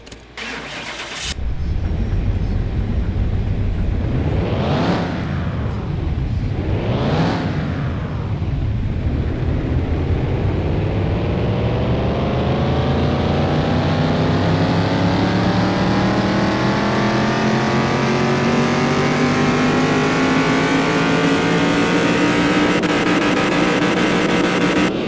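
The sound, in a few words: car engine revving on dyno in Car Mechanic Simulator 21 video game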